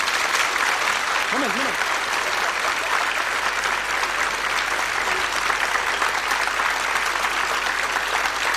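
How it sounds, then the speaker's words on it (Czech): An audience claps for a singer after a televised performance, a dense, steady applause that fills the whole stretch at even loudness, with a brief spoken word near the start. "Potlesk pro našeho zpěváka."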